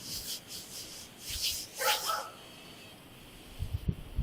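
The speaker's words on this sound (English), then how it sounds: "Is that dog chained up?" A chained dog gives a few faint, distant whimpering and bark-like sounds in short bursts, with light rubbing and scuffing noises near the end and no talking.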